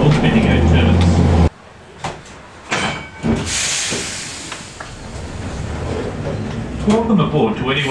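A Bendigo tram rolls along its track while turning off the main Echuca Road into Nolan Street, with a steady hissing rumble, rattles and clanks inside the car and a person talking over it.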